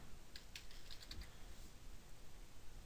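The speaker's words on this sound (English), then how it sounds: "Here we're going to type in shelves," Faint typing on a computer keyboard entering text into a drawing, a short run of soft key clicks in the first second over a steady background hiss, then fading out.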